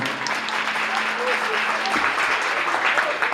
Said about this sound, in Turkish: Büyük alkış lütfen.